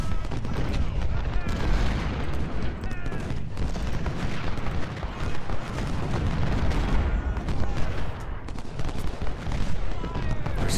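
Dense, continuous gunfire from skirmisher units in the Civil War strategy game Ultimate General: Civil War, a crackling musket fusillade with booming shots layered over a steady battle din, with talk mixed in.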